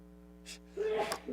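A short sharp intake of breath is followed by a single quick sneeze, close by, over a faint steady electrical hum.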